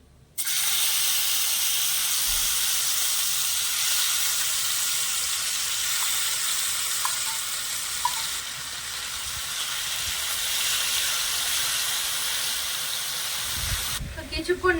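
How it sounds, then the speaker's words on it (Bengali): Mashed paneer fries in hot oil in a pan, giving a loud, continuous, even sizzling hiss that lasts almost the whole time before cutting off near the end. "পনিরগুলো একটু ভাজা ভাজা করে নেব"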